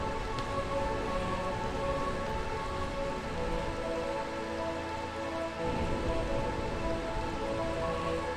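Steady rainfall in the Final Fantasy 9 video game, a continuous soft patter over a tonal musical background, even and unbroken throughout.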